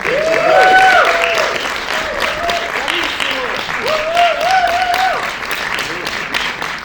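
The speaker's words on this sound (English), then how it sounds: "Big applause to them, please." A film festival Q&A audience in Stockholm claps steadily throughout, with scattered cheers and voices rising over the applause.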